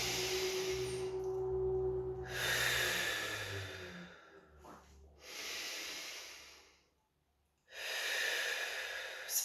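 Slow, deep breathing during a seated chair yoga session, with long hissy inhales and exhales in a steady rhythm and brief quiet pauses between breaths, close and fairly soft with no talking.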